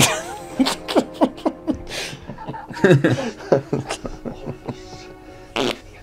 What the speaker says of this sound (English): Fire up those fart sound effects.